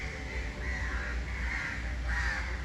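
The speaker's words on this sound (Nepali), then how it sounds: "कागहरू कस्तो डेन्जर गरिरहेको छ हेर्नु" Crows caw repeatedly over steady background noise in Tribhuvan Park, Nepal, several harsh calls overlapping at a moderate distance.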